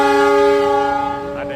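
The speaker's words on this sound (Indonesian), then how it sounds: "ada yang berangkat guys, jadi kereta lokalnya berangkat lagi." A local train's horn sounds as it departs Surabaya Gubeng station, a loud, sustained, harmonically rich blast that fades slightly near the end, with a voice faintly under it.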